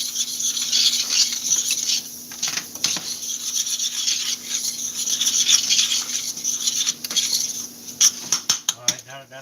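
Potato gratin ingredients are stirred and scraped in a bowl, giving close, irregular rubbing and scraping sounds with a few sharp clinks toward the end.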